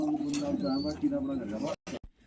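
A pigeon, the main flying bird of a pigeon-keeper's loft, coos in low, rolling calls close by before the sound cuts off abruptly near the end.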